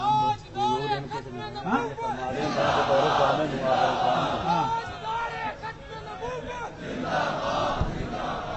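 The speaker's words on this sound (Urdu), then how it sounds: "لبیک کے نعرے آپ لگائیں۔" A large crowd at a religious sit-in chants Labbaik slogans, loud massed voices rising in swells over several seconds, with shouting and babble between the surges.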